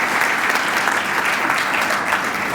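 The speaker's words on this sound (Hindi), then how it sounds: "ये जवान 7वीं क्लास में गया, पास हो गया, इसीलिए तालियां बजाएं।" A church congregation at Sunday worship claps loudly and continuously, a dense, even wash of many hands applauding up close for a student's passed exam.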